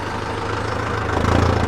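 A tractor engine idles in a low, steady throb as it is shifted into forward gear, close and continuous with a slight rise near the end.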